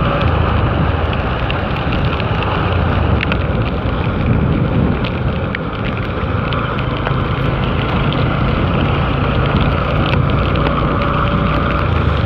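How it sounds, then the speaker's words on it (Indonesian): Heavy rain falls on an old airport road, a dense steady roar of downpour and splashing that is loud and continuous throughout, with no clear voices. "licin karena emang ini guys lagi hujan guys"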